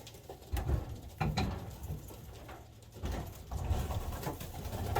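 Racing pigeons in a loft make soft repeated cooing calls with light shuffling and wing patter nearby, fairly quiet.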